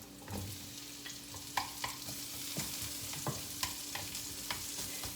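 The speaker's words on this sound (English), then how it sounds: "So that's the ginger, garlic, just slightly fried. We're going to throw in the onions." Onions hit a pan of lightly fried ginger and garlic, giving a soft, steady sizzle broken by sharp clicks and scrapes of a utensil against the pan at irregular intervals.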